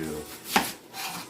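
A knife chops through a white onion into big chunks, one crisp cut landing on the board in a quiet kitchen.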